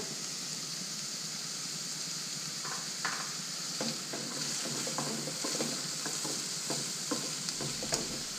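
Watermelon rind is stirred into a pan of sautéed garlic and onion. A steady sizzle and hiss runs throughout, with a light spoon scraping and clicking against the pan at irregular moments.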